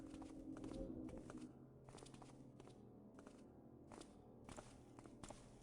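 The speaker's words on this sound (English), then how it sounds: "I can hear multiple sets of footsteps" Footsteps echo through the stealth game Thief II: The Metal Age, a steady run of soft scuffing steps and shuffles, faint and without any talking.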